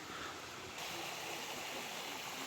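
Clear water flowing in a stream beside a hermitage in La Rioja, a steady soft rushing and babbling that sounds faint and constant, with no voices.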